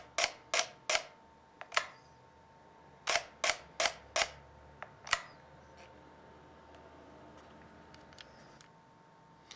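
Agfa Movexoom 6 Super 8 camera shutter mechanism firing in a run of sharp mechanical clicks, a quick burst of four, a single click, then another four and one more, close and clear with no talk.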